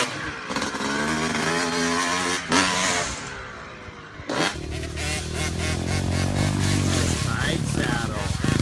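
A Yamaha 250 two-stroke dirt bike engine revs hard at a motocross track, its raspy buzz rising and falling through repeated throttle blips, loud and close throughout.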